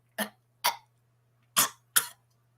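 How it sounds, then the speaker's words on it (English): Four short, separate coughs with a throat-clearing quality, close and alone, arriving as two pairs over a faint steady hum. "You ever wind up coughing and you don't know why you're coughing?"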